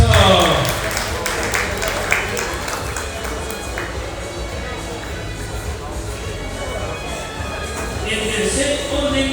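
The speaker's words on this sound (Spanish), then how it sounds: "Los aplausos." Audience applause at a school ceremony in Ecuador, an inter-school reading contest, fills the hall as a steady, dense patter that stays fairly even throughout, with crowd noise and voices mixed in.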